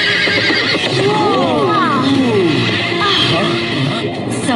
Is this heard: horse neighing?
yes